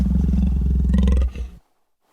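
A lion gives a single loud, deep roar that rumbles on for over a second, then fades into a shorter growl and cuts off to silence.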